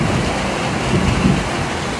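Continuous rainfall pattering steadily, a broad, even wash of sound with a faint low rumble beneath, heard alone without voices.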